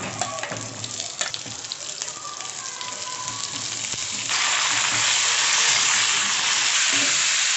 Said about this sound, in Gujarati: કાંદા છે, મરચાં છે, આદું છે અને લસણ છે। આને આપણે પહેલાં સાંતળી લેશું।